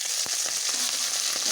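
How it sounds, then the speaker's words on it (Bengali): Small mola fish frying in hot salted oil sizzle close up with a constant crackling hiss, broken by a few faint soft taps, and no voices. "মাছগুলো একটু ভাজা হয়ে গেছে"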